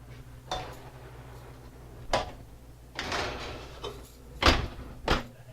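An oven door being opened and handled to put chocolate pansy cookies inside, a series of clunks and thuds from the door and trays, several separate knocks spread over a few seconds.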